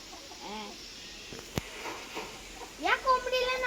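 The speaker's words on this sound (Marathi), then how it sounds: "कशाला तो कोंबडा आहे ना ही कोंबडी आहे" Chickens cluck nearby at a home in Konkan, a few separate bursts of clucking with a louder run of squawky calls toward the end, while people talk quietly between them.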